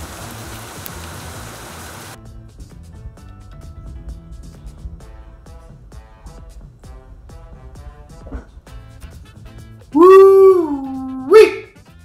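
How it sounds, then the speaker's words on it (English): Steady hiss of a heavy Miami summer downpour for a couple of seconds, then softer dripping and patter continue, broken near the end by a dog's loud howling whines. "we cooked it in a freaking downpour"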